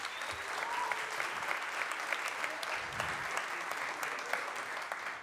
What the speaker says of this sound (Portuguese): uma salva de palmas para Paulo Moura mais uma vez